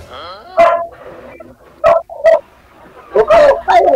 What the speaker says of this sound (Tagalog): Yung ingay ng aso niya eh.